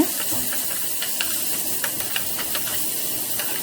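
Tomato hits hot ginger garlic paste in a pan for prawn thokku, giving a steady close sizzle and hiss with faint stirring clicks and no talk.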